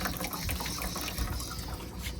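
Water rushing steadily through the plumbing line of a swamp cooler after priming, a continuous broadband gush and trickle that stays close and fairly loud for the whole stretch, with no voices.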